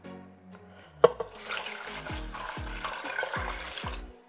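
Water pours into an Instant Pot for chicken and rice, starting after a sharp knock and then running as a continuous splash and trickle that rises in pitch as the pot fills.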